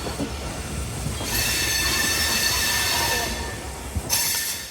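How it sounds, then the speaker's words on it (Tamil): A passenger train on the Mangalore to Coimbatore route pulls into a station, its wheels squealing loudly and steadily over a constant rolling rumble, with a brief clank near the end. "நம்ம வண்டி வந்துருச்சு 1/4 மணி நேரத்துக்கு முன்னாடியே."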